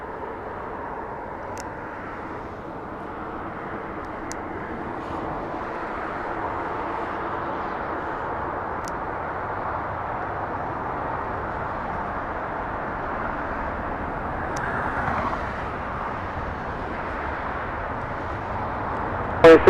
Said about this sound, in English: E-175 Sky West coming into land. Flying in from Spokane